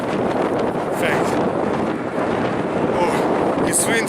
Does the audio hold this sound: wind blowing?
yes